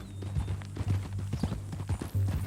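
Horse hooves clip-clop in a steady walking rhythm, close and clear over a low background hum, in the video game Red Dead Redemption 2.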